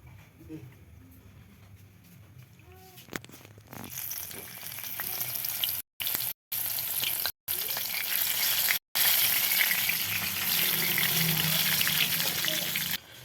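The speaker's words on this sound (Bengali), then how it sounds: "তেলটা যখন গরম হয়ে যাবে তখন এখানে লঙ্কাটা একটু হালকা করে ভেজে নিব" Steady loud sizzling of green chillies frying in hot oil, building after a few quiet seconds with faint clinks, then crackling continuously with brief dropouts.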